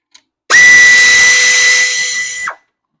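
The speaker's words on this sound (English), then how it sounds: "So I am going to use my air ratchet to speed this up." An air ratchet with a 14 mm deep well socket spins a bolt off a 2004 Toyota Sienna engine, one loud, close, high-pitched whirring burst lasting about two seconds, alone and with no talking.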